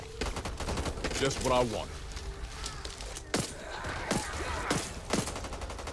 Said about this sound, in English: I'm shooting them left and right, so they probably die because we're shooting them